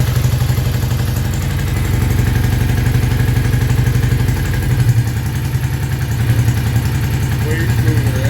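Motorcycle engine running at a steady idle after a kick start, loud and close with a continuous low rumbling throb, shifting slightly in pitch partway through, with people talking over it.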